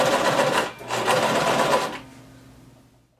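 A sewing machine stitches along the bias tape edge of a crop top in two steady bursts, with a short pause between them. The motor then winds down to a quiet hum.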